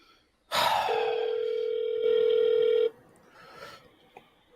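An outgoing phone call to a restaurant rings through a handset: one loud, sustained electronic ring tone that stops abruptly, followed by quiet line noise and faint clicks.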